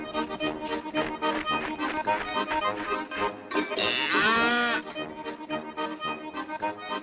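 A cow gives one long, drawn-out moo midway through, loud and close, over steady background music.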